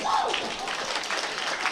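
An audience at a World Artistic Pool match claps and applauds in the background while a person talks over it, the applause steady and moderately loud throughout.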